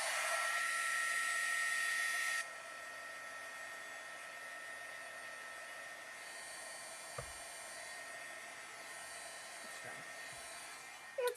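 Close-up hair dryer drying card for stamping, a steady high whir that drops to a lower, quieter setting after a couple of seconds and keeps running with a few faint knocks.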